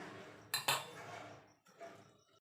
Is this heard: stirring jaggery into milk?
yes